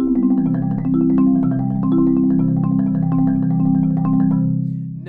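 A keyboard exercise played in 4-2-1 format around the instrument, sustained tonal notes in continuous flowing runs, clear and close, no voices.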